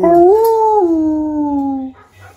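A husky howls on command in a single long, close, rising-then-falling wail of about two seconds, followed by a brief faint whimper.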